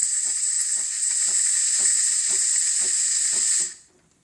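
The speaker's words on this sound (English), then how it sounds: "First, get a little water, and then there's your steam." An Illy Mitaca Pod 1 espresso machine's steam wand blows a strong, steady hiss close by, with faint regular ticking from the machine underneath, then cuts off abruptly near the end.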